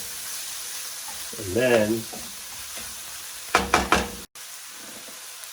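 Spices are tossed in a hot pan, giving a close sizzle with a short voice moment partway through, then a few quick knocks of a utensil against the pan before everything stops abruptly.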